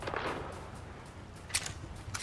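A pistol fires in the video game Fortnite, two or three quiet, sharp shots spaced apart over a faint steady background of game noise.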